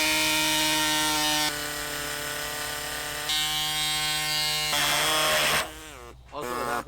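A saw trims carbon fiber car body pieces for a BMW M4 GT3 rear end, making a loud, steady, high-pitched grinding whine that shifts pitch a few times and then wobbles and slows near the end.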